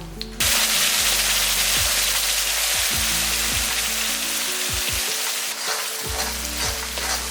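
Chutney is poured into a hot pan of fried spices for a coriander rice lunch dish and bursts into a loud, steady sizzle that runs continuously for several seconds.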